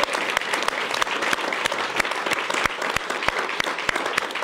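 A large, dense evening audience at a French talk show applauds without a break, with steady close clapping and sharp individual claps standing out through the whole stretch.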